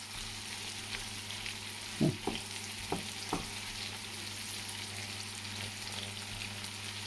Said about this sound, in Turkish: Şu çısırtı gelecek.